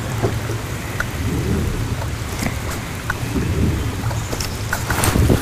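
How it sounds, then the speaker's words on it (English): Light rain falls steadily on water during a fishing outing, a soft continuous patter with scattered drop ticks and a low rumbling wash, no voices. "this is about a perfect fishing rain. It's just a nice light fall."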